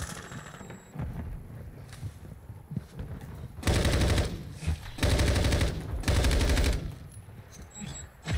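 Bursts of automatic gunfire in the video game Call of Duty 2 multiplayer rattle out in three loud sustained volleys, separated by quieter stretches of scattered game sounds.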